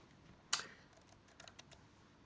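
A single sharp, loud key strike on a computer keyboard is followed by a quick, faint run of softer taps, close by in an otherwise quiet room.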